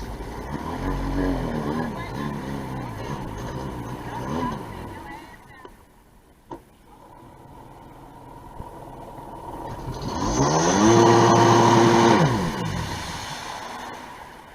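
A Yamaha WaveRunner 650 or Sea-Doo XP 787 jet ski engine runs loud at the start, drops away into a quieter stretch, then revs up strongly again near the end, with people talking over parts of it.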